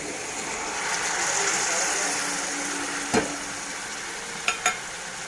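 Tamarind water added to a sizzling pan of dried bombay duck curry in Koli style, with a steady frying hiss and a few sharp clicks near the end.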